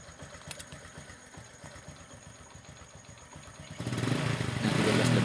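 A Honda Supra X 125 motorcycle engine idles with a faint rapid putter, then is revved into a louder, rising, sustained roar near the end, close by with no talk.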